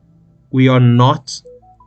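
A phone goes off nearby with a loud electronic tone burst followed by a few shorter beeps, fairly close and prominent.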